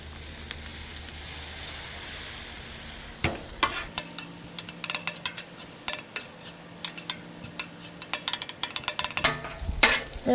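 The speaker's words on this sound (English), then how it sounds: "I'm gonna go ahead and throw in a little soy sauce here." Soy sauce hits a hot Weber Slate griddle beside a large batch of chicken fried rice, a soft hiss giving way to loud sizzling and rapid metal spatula scrapes and clanks.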